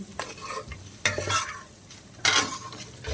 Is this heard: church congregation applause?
no